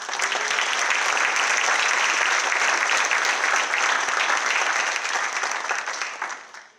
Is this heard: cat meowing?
no